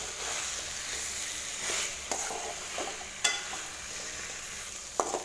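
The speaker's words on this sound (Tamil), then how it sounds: "லோ ஃப்ளேம்லேயே கொஞ்சம் நேரம் வதக்கி விட்டுக்கலாம்." Chicken coated in masala fries on a low flame, with a soft continuous sizzle broken by several crisp scrapes and taps as a spatula stirs it through the pan.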